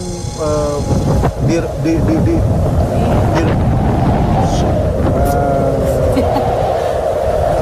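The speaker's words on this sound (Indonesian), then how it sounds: "ini angin makin kenceng pemirsa" Strong wind gusting outdoors, roaring steadily and buffeting the microphone for the whole stretch, with voices faintly underneath.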